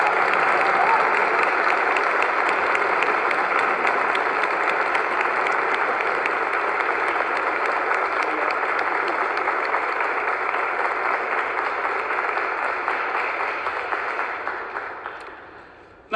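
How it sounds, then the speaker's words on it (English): A large graduation audience at a Glasgow university ceremony applauds in a dense, sustained roar of clapping that stays loud and steady before tapering off at the end. "join me in thanking everybody who's helped you get to this point with a round of applause"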